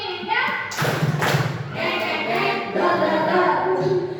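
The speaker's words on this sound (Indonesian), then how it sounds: "Tepuk satu, tepuk dua" Participants in a school positive discipline session clap in a rhythm game: bursts of group claps land in uneven counted beats, mixed with voices calling out in the room.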